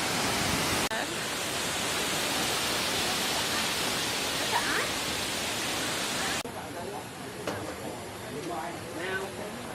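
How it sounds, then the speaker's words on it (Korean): Shifen Waterfall in Taiwan roaring as a broad, steady rush of water that holds at full strength, then drops to a lower level partway through, with people talking over it. "와, 여기 스판 폭포에 도착했어요. 생각보다 엄청 웅장해서"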